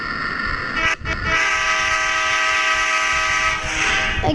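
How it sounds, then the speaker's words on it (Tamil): A train arriving at a station in Chennai rumbles past close by, a steady heavy rolling roar with sustained horn-like tones running over it for several seconds. "ஒரு வழியாக ட்ரெயின் வந்தாச்சு"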